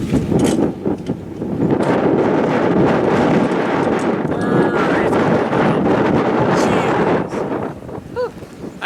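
Strong wind buffets the microphone during an extreme cold snap at outdoor animal shelters, a loud, continuous roaring rumble with gusting surges, and faint whinny-like calls from animals breaking through near the end.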